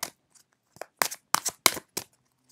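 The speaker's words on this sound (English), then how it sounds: "You see me shuffle, okay?" Tarot cards are shuffled in a series of sharp, papery riffles and snaps, about six quick bursts close to the microphone in an otherwise quiet room.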